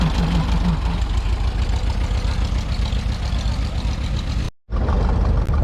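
An antique tractor engine idles up close at a farm days equipment show, a loud, steady low rumble that drops out for an instant near the end before resuming.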